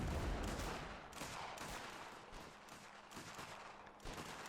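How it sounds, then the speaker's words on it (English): Cannons and massed gunfire rumble in a dense, continuous volley during an Anglo-Zulu war video game mod battle with the 24th Regiment, sharp overlapping bangs over a steady roar. "The cannons continuing to fire back over the top of the heads of the army."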